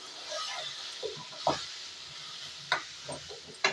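Apple pickle cooks in a pan, a steady close sizzle broken by a few sharp scrapes and knocks as it is stirred, with no talking.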